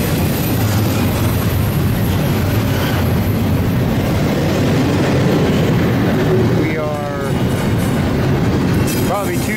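An intermodal freight train rolls downgrade on the east slope of the Sand Patch grade near Mance, a loud, steady rumble with rhythmic wheel clatter close by and brief squeals near the end.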